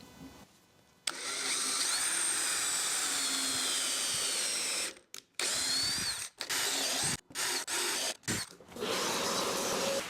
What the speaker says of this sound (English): we got to drill long enough to fit this entire post in